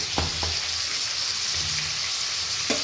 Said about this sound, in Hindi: अच्छे से प्रॉन को फ्राई कर लेंगे